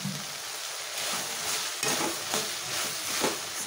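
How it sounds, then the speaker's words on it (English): A spoon stirs fried onion and tomato in a pan with a brinjal fry, steady frying sizzle under repeated scraping strokes, close and moderately loud. "And stir it well."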